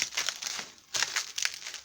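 Packing tape and newspaper crinkle and rustle close by as a thrifted dish is unpacked, two bursts of crumpling separated by a short pause.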